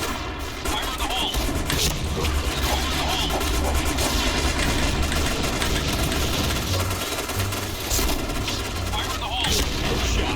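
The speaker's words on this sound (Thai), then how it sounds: "ทีมเรายิงรัวมาก ทีมเรายิงรัวมากยิงรัวมากเลย" Rapid teammate gunfire in a PUBG-style shooter game, dense overlapping bursts running continuously and loud throughout, with engine-like rumble and talk mixed in underneath.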